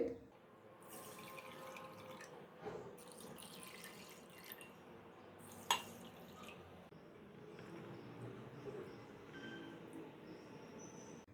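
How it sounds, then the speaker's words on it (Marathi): Water splashing and trickling as rice and lentils are rinsed in a bowl for payasam, with occasional clinks, in a quiet indoor room. "आता हे तिन्ही धान्य आपल्याला 2 वेळा पाण्याने स्वच्छ धुवून घ्यायचे।"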